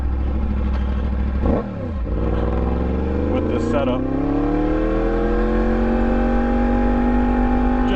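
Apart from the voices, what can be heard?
Yamaha MT-10 motorcycle with Austin Racing exhaust revving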